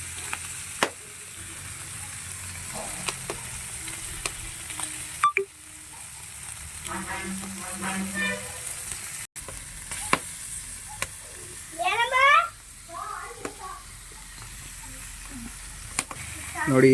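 Bangude (mackerel) tawa fry sizzling on a hot pan, a steady frying hiss with occasional spatters and clinks throughout, close and moderately loud.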